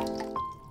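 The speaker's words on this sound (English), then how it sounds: "I add 1 liter of water to a pan" Water is poured into a cooking pan as the first step of a stock base, giving a short, close, splashing trickle with a brief ringing tone that fades within a second.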